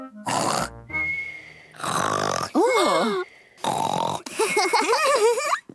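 A voice actor imitates a cartoon pig snoring loudly, in a Russian-dubbed Peppa Pig episode. The snores come as long, rasping inhales and wavering, whistling exhales that repeat several times with short gaps between them.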